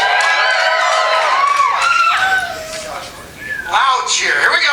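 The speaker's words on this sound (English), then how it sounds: "So when we do that, give me a big loud cheer." Audience at a comedy show cheering loudly on cue, a dense wash of shouts and high-pitched yells and screams that dips briefly midway and then swells again.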